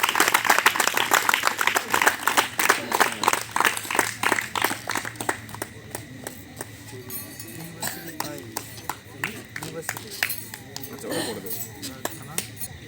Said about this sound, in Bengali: এর জন্য সবাই মিলে একটা জোরে হাততালি দাও।